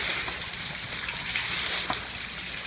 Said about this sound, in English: I love the rain, Gabby